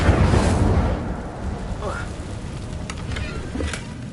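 An Incendio fire spell cast in Hogwarts Legacy bursts out as a loud, roaring whoosh, then settles into a sustained fiery rumble and crackle for several seconds.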